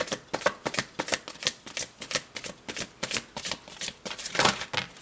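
Tarot cards being shuffled: rapid, crisp riffling bursts in an uneven rhythm, close and fairly loud, with no talking.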